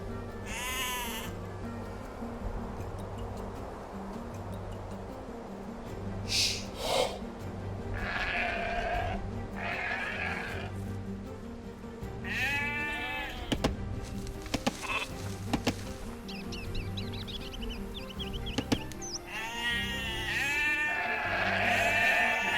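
Sheep bleat repeatedly in a strategy video game set in a medieval village, their calls rising over a constant ambient bed of birdsong and insect buzz, some bleats close and loud, others softer.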